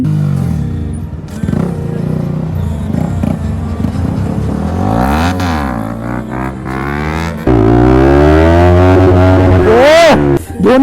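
Motorcycle performing a stoppie on a by-pass road, engine revving and rising and falling in pitch up close, with loud sweeping whine toward the end and a brief voice early on.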